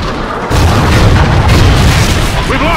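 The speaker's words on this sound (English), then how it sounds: "Trinity rocket inbound." A Trinity rocket strike from the Call of Duty: Ghosts video game lands as a loud, sustained booming explosion with rumbling low-end blast noise, hitting suddenly after a brief quieter moment and rolling on for a couple of seconds.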